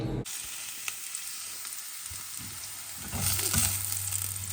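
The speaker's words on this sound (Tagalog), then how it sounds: "Yan, malapit nang maluto yung patatas." Potatoes and sausage fry in a pan, a steady close sizzle that swells louder and crackles more strongly toward the end, with light clinks of stirring and no talking.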